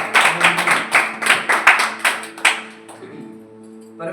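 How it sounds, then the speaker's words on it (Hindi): A church congregation at a Sunday service claps loudly, several bursts of close, rhythmic hand claps over about three seconds, tailing off as a held tone lingers underneath. "एक बार जोरदार ताली बजा दीजिए यीशु के लिए"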